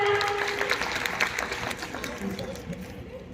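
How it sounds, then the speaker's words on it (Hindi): Applause from an audience at a school annual-function poetry event by students, a dense patter of clapping that fades gradually, with voices mixed in underneath. "जोरदार तालियां।"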